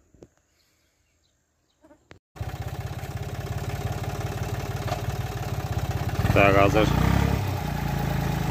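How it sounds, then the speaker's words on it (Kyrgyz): A mini tractor engine idles in a field of cotton, maize and watermelon, starting after a brief quiet with a steady, throbbing near chug that grows slightly louder; a few short spoken words come first and a faint bleat rises mid-clip. "Мини трактор келди."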